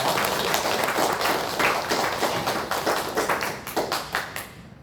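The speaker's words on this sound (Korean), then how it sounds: "우리 하나님께 영광의 박수를 올리겠습니다." A church congregation claps during a Sunday worship service, a loud room full of hands beating in quick bursts that gradually grow more rhythmic before stopping abruptly.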